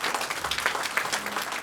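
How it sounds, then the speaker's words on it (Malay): Audience at a business presentation breaking into brief, dense applause, a steady wash of many hands clapping with no voices on top. "Satu tepukan kepada mereka ini."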